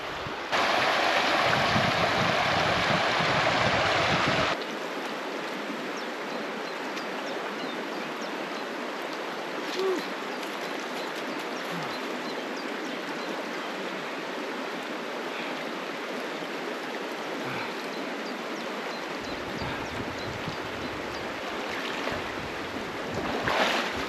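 A flowing stream in the woods rushes steadily and close by through the whole stretch, with a louder burst of noise at the start and no talking.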